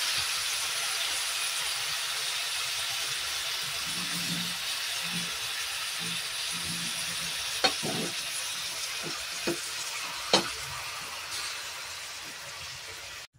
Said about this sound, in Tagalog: Ayan, ilagay na natin yung ating beef. Ating marinate na beef.